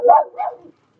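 Two quick, close barks from a dog come in fast succession, the first louder, the second softer and trailing off, followed by silence.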